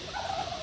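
A single short gobble from a turkey kept on a mountain farm, a quick warbling call heard close and fairly quiet with no talk over it.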